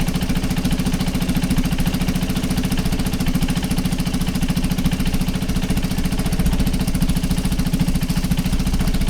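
Motorcycle engine idling steadily while warming up, a loud, even low throb holding unbroken for the whole stretch with no other sounds.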